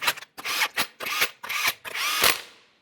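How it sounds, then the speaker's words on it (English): A power tool spins 21mm lug nuts onto a 2014-2018 Mazda 3 wheel, giving five or six quick close whirring bursts in a row, the last one slightly longer. "start on all 5 of your 21mm lug nuts"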